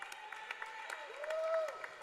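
Crowd applause at a high school boys' swim and dive quad meet, a steady indoor pool-deck clatter of clapping with scattered sharper claps, a whistle-like tone rising briefly near the middle.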